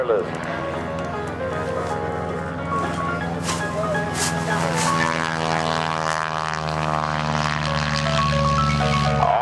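A Stearman PT-17 biplane's radial engine at an airshow, droning steadily throughout a square loop, with rising and shifting harmonic tones as the power changes, heard under continuous commentary.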